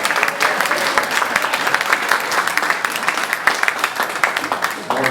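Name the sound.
applause for choristers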